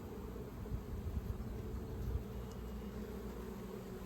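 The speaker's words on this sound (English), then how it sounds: "Bees are doing a nice job filling out these frames." Honeybees hum in an open horizontal hive full of comb, a steady low drone close by with a few brief louder swells as individual bees pass near.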